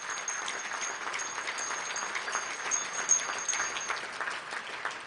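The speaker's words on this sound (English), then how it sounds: "How about a big round of applause for the Kay and Hudak family." A big round of applause at a family recognition awards event, a dense, continuous wash of clapping from a crowd that holds steady throughout with no voices.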